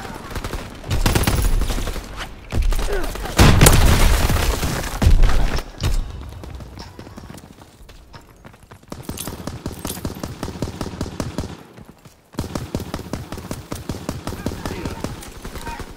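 Bursts of rifle and machine-gun fire and explosions in a Call of Duty WWII ground war match, loud volleys up front giving way to lighter, rapid crackling shots, with a player talking over parts of it.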